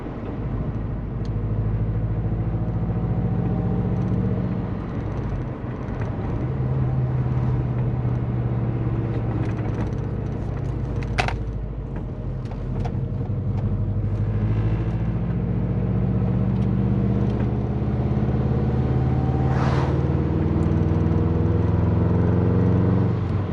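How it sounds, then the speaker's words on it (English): A Subaru sleeper car drives along with its exhaust droning, engine tones rising and falling through gear changes under a steady road rumble, with occasional clicks and knocks from inside the cabin. "Right, let's hear the exhaust."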